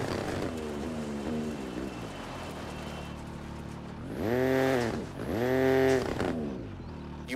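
Rally car in EA Sports WRC accelerating from a standing start, engine note rising steadily through gear changes, then two loud revving surges near the end, heard alone without talk.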